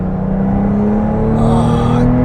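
A 2021 Porsche 911 Targa 4S engine pulls hard under acceleration, its tone rising steadily as revs climb, loud and close and with no voices.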